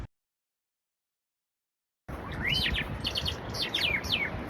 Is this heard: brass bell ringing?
no